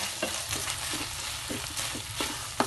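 Onions cooking with tuna sisig in a pan give a steady close sizzle, broken by repeated scraping and tapping stirring strokes that get sharper toward the end.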